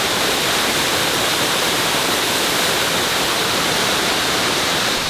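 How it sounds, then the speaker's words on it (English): A waterfall at the start of a mossy forest trail in New Taipei, Taiwan gives off a loud, constant rushing hiss that stays even and unbroken throughout, with no voices. "there's already a waterfall right here and it is beautiful"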